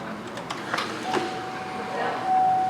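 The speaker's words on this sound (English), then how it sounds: "Those are your seatbelt presenters." Seatbelt presenters in a 2016 Buick Cascada coupe extend with a soft mechanical whir, a few light clicks and a thin steady motor tone, quiet and close inside the car cabin.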